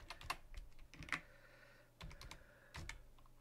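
Keys clatter on a computer keyboard in quick irregular bursts of typing, separated by brief pauses, close but fairly quiet over a low hum.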